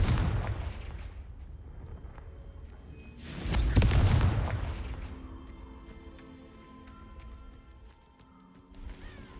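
Confringo fire spell explosions in Hogwarts Legacy: low rumbling game sounds build into one loud, booming blast near the middle, followed by fading crackle and a smaller burst at the end.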